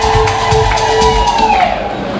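An audience at a welcome for guests who travelled from Dar es Salaam, a dense wash of clapping and cheering heard up close throughout with a ringing tone above it.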